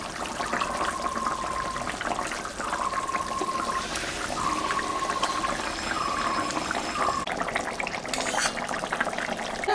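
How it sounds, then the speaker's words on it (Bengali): Silver carp fish curry boiling in a covered pot, a steady close bubbling and hissing simmer that continues throughout, with a faint recurring tone in the background. "দিলাম আর একটু ফুটু তারপরে নামাবো"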